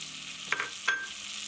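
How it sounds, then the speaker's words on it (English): Leeks sauteing in a pan over medium-low heat, a soft continuous sizzle broken by two brief stirring scrapes, close and quiet with no talk. "So first step is to saute these leeks for 5 to 7 minutes on a medium-low heat."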